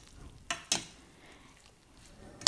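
Kerala koottu curry stirred in a pot, with a few sharp scraping strokes of a spoon against the pot spaced out over a quiet background, close and fairly soft.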